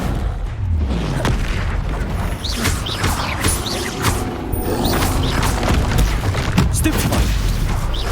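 A Confringo blasting spell in Hogwarts Legacy goes off during a troll fight, a chain of loud booms and crashing impacts layered with whooshing magic effects and rumbling low end, dense and continuous throughout.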